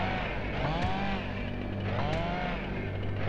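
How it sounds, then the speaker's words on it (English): A chainsaw in the video game Nightmare Creatures 2, wielded by an enemy, buzzes as a continuous droning engine whine with rising pitch sweeps, steady and loud throughout with no talk. "No more chainsaw for you"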